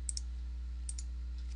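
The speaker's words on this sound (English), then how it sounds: "I open that command window by going through and typing in CMD." A few light keyboard clicks in quick pairs, faint and close, as someone types a short command on a computer keyboard in an otherwise quiet room.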